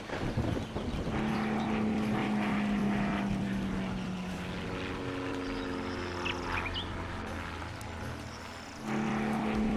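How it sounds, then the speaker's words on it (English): Steady droning propeller hum of a remote-controlled model aircraft in a video game, a continuous buzzing engine tone holding loud through the whole stretch over game ambience. "Looks like it is controlling that model aircraft."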